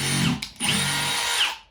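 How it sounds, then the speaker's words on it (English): A power drill drives a drywall screw into wood. The motor whines loudly in two bursts separated by a brief pause, and the second run is longer before it winds down at the end. "Let me try another drywall screw and try to press firmly down on the drill."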